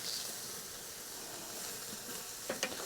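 Beef plate short ribs sizzle steadily on a blue Weber Glen kettle grill just after being flipped, a continuous close hiss with a couple of brief louder crackles near the end.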